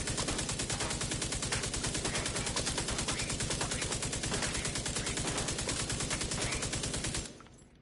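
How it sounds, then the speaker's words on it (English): Loud, continuous rapid machine gun fire in a video game, a dense unbroken stream of shots that stops abruptly near the end. "I don't know if you can hear me over this machine gun fire"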